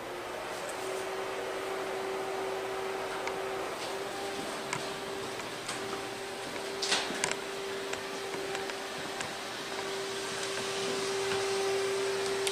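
A CarCapsule inflatable garage's 12-volt fan runs as a steady, even whir and rushing airflow, with a strong constant hum and a few faint ticks and clicks on top.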